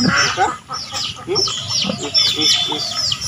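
A mother hen clucks among her fourteen chicks, giving repeated soft clucks while the chicks answer with high, rapid peeping chirps. Close and busy, with a voice speaking faintly in the background.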